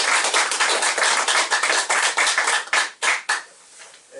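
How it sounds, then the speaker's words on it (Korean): An audience gives warm applause welcoming a speaker to a bank alumni association gathering, dense continuous clapping that thins into a few scattered claps and fades out. "우리 박상설 선생님 뜨거운 박수로 모시겠습니다."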